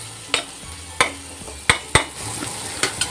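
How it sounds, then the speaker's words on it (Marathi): A tempering of asafoetida and turmeric sautéed in a pan for Kokani godi daal, several sharp spoon scrapes against the pan over a low sizzle, close and without voices. "आता हे बघा व्यवस्थित अशी फोडणी परतून घेऊया."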